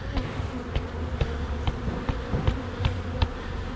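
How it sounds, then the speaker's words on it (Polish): Honey bees buzz at an open beehive in a dense, steady hum with faint clicks and knocks scattered through it. "Ok, zrzucę tą pszczołę, bo nie wiadomo czy matka tu gdzieś nie urzęduje."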